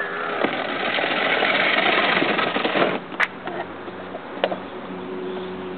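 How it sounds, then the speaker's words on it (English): A child's toy motorcycle runs with a steady, buzzing electric motor whine, fairly close, which drops partway through to a quieter hum broken by a couple of sharp clicks. "now you can drive your motorcycle"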